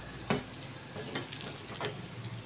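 Onions frying for a Kerala-style fish curry, a faint steady sizzle broken by a few soft scraping stirs of a spoon in the pan.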